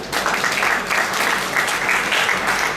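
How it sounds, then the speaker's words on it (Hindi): Steady audience applause in a lecture hall at an intellectual property rights awareness programme, dense continuous clapping that holds at an even level for the whole stretch without pause. "पहले इनके लिए एक बार तालियां हो जाए"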